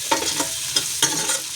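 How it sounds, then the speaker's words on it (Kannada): Beaten eggs fry in a pan for egg fried rice, a close sizzle broken by several sharp scraping strokes of a spatula stirring them, with no voices. "ಫ್ರೈ ಆಗ್ತಿದೆ ನೋಡಿ."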